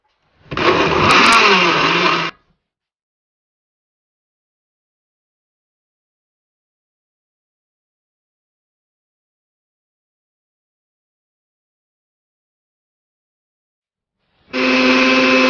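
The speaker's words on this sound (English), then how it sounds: "so I'm going to turn on the blender now." A kitchen blender whirs loudly as it blends callaloo leaves and water for juice, in two short bursts of about two seconds each separated by a long silence, with no talk.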